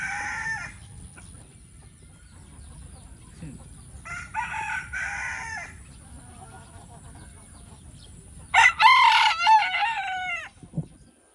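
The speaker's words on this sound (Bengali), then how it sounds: "এটার ভিতর অনেক রেয়ার মোরগ আছে" Roosters on a farm, including rare breeds, crow in several bursts, with one loud nearby crow late on standing out above fainter distant calls and general barnyard background.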